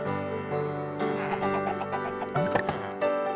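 Chickens cluck in a steady, busy chorus in Minecraft, with a few sharper squawks near the end, set against a constant background hum.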